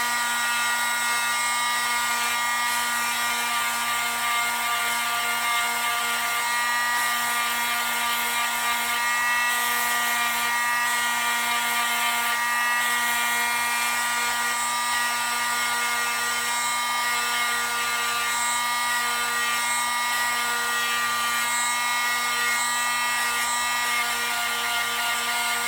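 Continuous high-pitched whine of a power sander grinding a bevel onto a steel axe cross wedge, steady and close with no pauses or speech.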